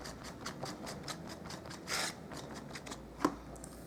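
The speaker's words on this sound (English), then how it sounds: "So I will cut out also the flowers." Scissors snipping paper flowers for a handmade card, a faint run of light, quick cuts close by, with a slightly louder rustle and one sharp click.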